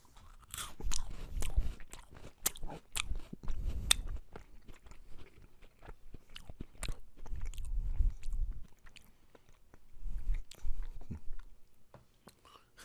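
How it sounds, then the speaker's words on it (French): Crunchy Japanese white chocolate biscuit snack being bitten and chewed close to the mic, with repeated crisp crunches in bursts and quiet pauses, alone without talk. "Ça croque."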